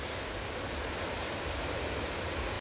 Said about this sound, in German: Da ist er, der Wildbach-Wasserfall zu sehen.